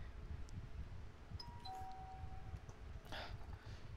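A two-tone ding-dong chime rings out in the Content Warning game, clear and moderately loud over a low rumbling background, followed by a soft burst of noise.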